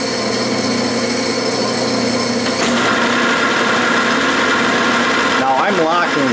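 A metal lathe runs steadily with its lead screw engaged, a dense continuous mechanical hum and whine holding throughout, with a shift in tone partway and a brief rising squeal near the end as the machine is adjusted.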